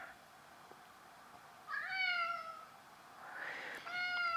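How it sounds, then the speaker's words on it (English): A cat named Tuco meows twice indoors, each call a drawn-out, rising and falling cry, the second louder and longer, heard alone over a quiet room hush. "I hear you, little cat."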